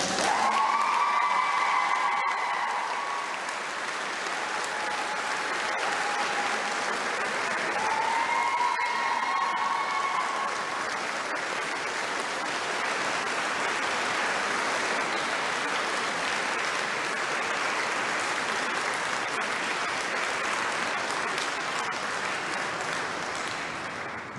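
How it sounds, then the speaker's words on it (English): Sustained audience applause at a nursing pinning ceremony honouring an accelerated BSN class, a dense, steady roar of clapping from a large seated crowd with a few faint cheers and whistles early on. "Please join me in applause to congratulate Professor Felicia Rodriguez."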